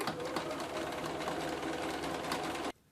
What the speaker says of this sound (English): I'm just doing a straight stitch, and you start sewing